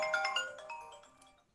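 A mobile phone ringtone plays a short, bright electronic melody of several chiming notes during an interfaith conversation event, fading away after about a second and a half with no talk over it.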